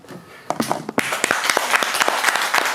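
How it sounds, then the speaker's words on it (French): Audience applause at a live comedy show, starting with a few scattered claps and swelling into a dense, steady round of clapping from a crowd after about one second. "Qui me connaît ici par applaudissement?"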